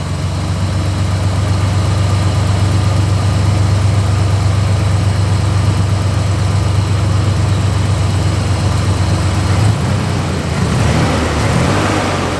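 A 1986 Nissan 300ZX, a car in poor running condition, idles with a steady low engine drone and a constant rumble that holds close and loud, then changes character near the end.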